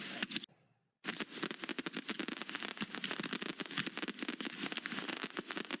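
A professional closing fireworks show crackles and pops in a dense, rapid barrage after a brief silent gap near the start, heard from a moderate distance.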